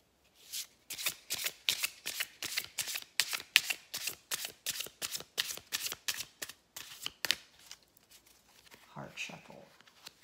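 Tarot cards riffle-shuffled in a steady run of sharp, crisp flutters close by, about twenty quick bursts, followed by a short softer shuffle near the end.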